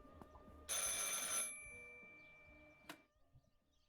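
A telephone in the video game Martha is Dead, heard as one loud bright ring burst, then a softer lingering tone and a single sharp click near the end, with no talk.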